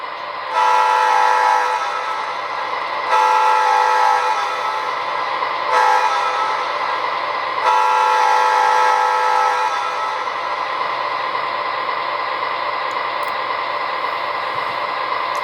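An MTH HO-scale ES44AC model locomotive sounds its grade crossing horn pattern: two long blasts, a short one and a final long blast, loud and clear over a low constant electronic hum.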